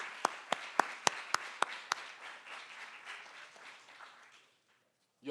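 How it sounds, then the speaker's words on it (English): Audience applause at a YouthBuild St. Louis City commencement ceremony: a handful of sharp, loud claps at the start give way to a dense wash of crowd clapping that fades out, ending with a brief sound. "Clap it up one time."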